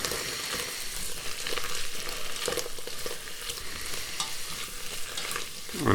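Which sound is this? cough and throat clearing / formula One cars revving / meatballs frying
meatballs frying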